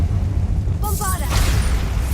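A Bombarda explosion spell cast in the video game Hogwarts Legacy: a sudden burst erupts over a constant low rumble of game ambience, followed by a brief crackling, shimmering tail.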